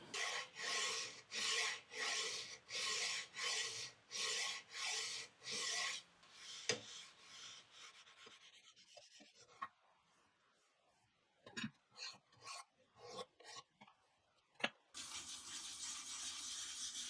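A hand file rasps along the edges of old vise slides in about a dozen even back-and-forth strokes, then a pause with scattered scrapes and taps before a final sustained filing pass, close and clear.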